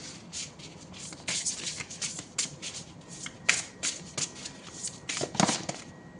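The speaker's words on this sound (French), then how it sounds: "Je prends une dernière carte." A deck of cards being shuffled by hand and a card drawn, a quick series of close, crisp riffling flicks and snaps with brief pauses, no talk.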